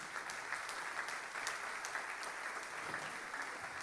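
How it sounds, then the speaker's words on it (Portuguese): Church congregation applauding during a Portuguese-language worship service, a soft, steady spatter of many hands heard at a distance and fairly quiet, continuing evenly for a few seconds. "Aplauda ao nome de Jesus."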